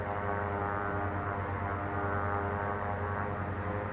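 A WW2 dive bomber's propeller engine drones in a video game, a steady, loud, throbbing hum at reduced throttle with no other sounds.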